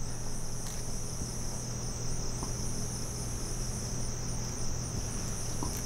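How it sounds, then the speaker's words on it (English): Crickets and other insects chirp outdoors at night in a steady, dense high-pitched trill with a low hum beneath it, moderately quiet and continuous, with no talk. "Just all kinds of bugs out here tonight."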